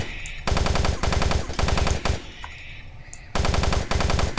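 Rapid automatic gunfire from Doom 3, loud and close, comes in several long bursts separated by short pauses, with faint clicks and game sounds in the gaps.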